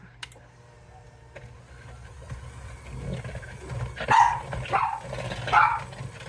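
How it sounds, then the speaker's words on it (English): Several dog barks and growly yelps come in quick bursts indoors, fairly loud and close, with a low hum underneath. "Excuse my dogs."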